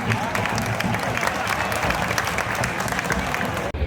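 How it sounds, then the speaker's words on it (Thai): Sustained applause and crowd noise from Nakhon Ratchasima supporters in a Thai football stadium at the end of a match, a dense, steady roar of clapping with scattered voices mixed in. "ขอเสียงปรบมือให้กับกองเชียร์นครราชสีมานะครับ"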